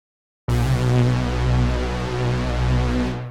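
A cinematic bass stab patch built in Serum with chorus added, one sustained rich note that swells in at once and holds loud and steady with a shimmering upper layer, then tapers at the end.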